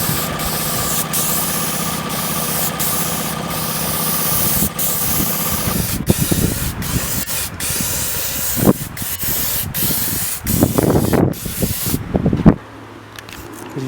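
Spray can paint hissing in steady bursts while a coat goes on a project car, with a continuous hiss for several seconds, then broken, uneven spurts and a short pause near the end.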